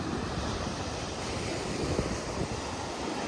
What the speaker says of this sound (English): come by the Pacific Ocean again